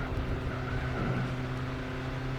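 A Subaru's engine in the Gran Turismo 4 racing game drones steadily at close range, its pitch wavering slightly as the car accelerates, with no speech over it.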